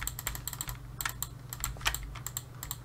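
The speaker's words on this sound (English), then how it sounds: "hopefully the clicking isn't as loud" A computer keyboard and mouse click close up in rapid, irregular taps over a low steady hum, with no speech.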